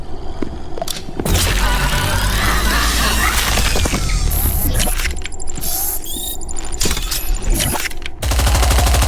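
Loud, dense bursts of rapid gunfire and heavy impacts from the game Titanfall, with crashing booms and mechanical clatter filling the whole stretch.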